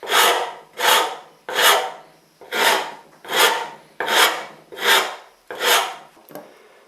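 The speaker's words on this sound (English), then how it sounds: "The rasp is constructed of a lattice of saw blades firmly riveted together." A Shinto saw rasp, built from riveted saw blades, files wood in eight even back-and-forth strokes, each a loud rasping scrape, alone and close.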